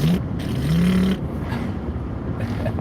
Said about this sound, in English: The motorbike behind me sounds like it's farting.